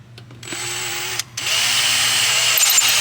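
A power drill bores into metal while fitting a turbo to a Nissan Silvia S14 SR20DE engine, spinning up after a short pause into a steady, loud, close whine that continues without speech.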